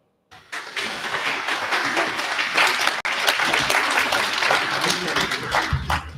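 Conservative supporters at an election results event break into loud, sustained applause and cheering, a dense roar of clapping that starts abruptly and carries steadily throughout.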